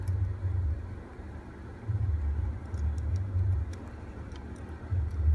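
A 2019 Honda Accord idling steadily, its low engine rumble pulsing in slow waves with faint ticking above, close and moderately loud with no talk.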